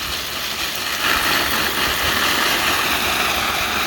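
Water pours steadily onto transplanted watermelon seedlings growing in a milk crate, a soft continuous splashing and trickling close by with no pauses.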